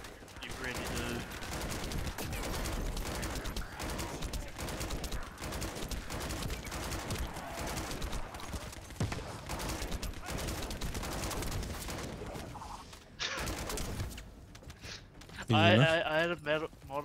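Rapid bursts of automatic gunfire from a light machine gun in The First Descendant shooter game rattle almost continuously under voices talking, ending in a few heavier shots.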